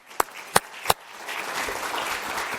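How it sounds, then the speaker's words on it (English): Three crisp, close hand claps ring out first, then a conference audience breaks into steady, moderately loud applause for the panelists that carries on to the end. "The panelists, a round of applause for them."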